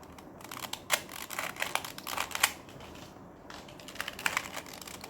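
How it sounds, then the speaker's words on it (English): A small 2x2 Rubik's cube is turned rapidly by hand, producing close, crisp plastic clicks and clacks in irregular quick bursts with brief pauses. "So let's shuffle this cube first."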